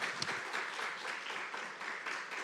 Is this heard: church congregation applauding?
yes